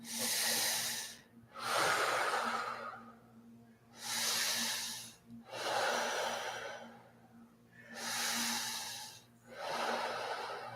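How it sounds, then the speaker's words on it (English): Slow deep breaths drawn in through the mouth during a guided body exercise class, each long airy inhale audible and close, repeating in an even rhythm with short quiet gaps between them. "Inhale through the mouth."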